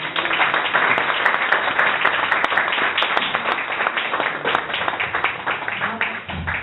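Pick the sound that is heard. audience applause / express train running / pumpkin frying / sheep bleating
audience applause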